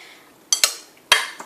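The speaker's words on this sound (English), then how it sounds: "and then just stir" Large spoon stirring chunks of mayonnaise in a bowl, three sharp clinks and scrapes against the bowl in an irregular rhythm, close and fairly loud with no talk.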